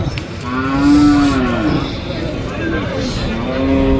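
Calves moo loudly nearby at a cattle market in Punganur, long drawn-out calls overlapping, with a busy outdoor market murmur in the background.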